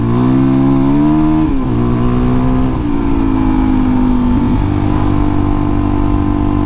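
A Suzuki DR-Z motorcycle pulls away after the clutch is dropped, its engine note loud and close, with pitch steps that sound like gear changes and a steady drone between them.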